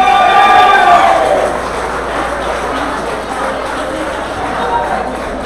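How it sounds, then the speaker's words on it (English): An awards-ceremony crowd cheers and claps for a winner as he walks up, a loud burst of whoops that settles into sustained applause and crowd noise. "Round of applause."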